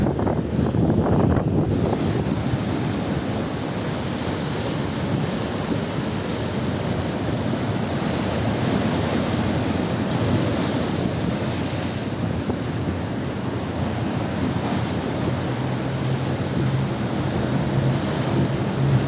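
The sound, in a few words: strong sea waves and wind at Alexandria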